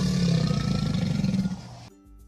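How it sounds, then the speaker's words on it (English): A deep roar, offered as a crocodile in an animal sound quiz, rumbles loudly and continuously for about two seconds and then cuts off into near silence. "The crocodile is the correct answer."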